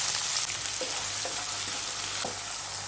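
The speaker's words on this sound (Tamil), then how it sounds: "இந்த எண்ணெயில் வெங்காயத்தை நல்லா வதக்கணும்." Finely chopped large onion frying in hot oil in a pan, giving a steady close sizzle and crackle with a few soft stirring scrapes throughout.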